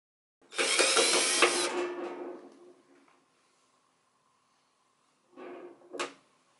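Small screws come out of the back panel of a Red Bull fridge, heard as a sharp metallic clatter of screwdriver and parts followed by silence, then two shorter scraping bursts.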